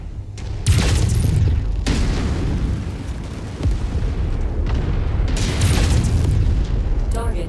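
Targets are blown apart in MechWarrior 5, heavy booming explosions with rumbling debris roaring continuously, loud and close, swelling in two big waves across the clip.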